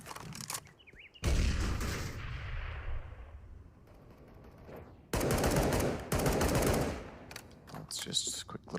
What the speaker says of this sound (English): Was providing the covering fire that they required.